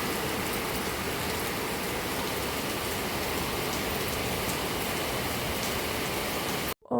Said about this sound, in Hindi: बहुत तेज़ बारिश बेंगलोर में हो रही थी।